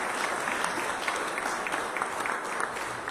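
Audience applause for a wizard act at a variety show, steady dense clapping from a crowd sustained throughout without a break.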